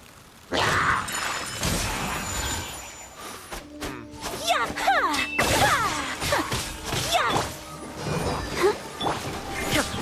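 In Genshin Impact, an illusion shatters with a sudden loud shattering crash, followed by swirling, whooshing effects and ringing tones that linger for several seconds.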